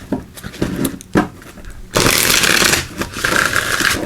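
Archetype oracle cards being shuffled by hand, a few soft riffles and taps at first, then a sustained loud, close flurry of card shuffling.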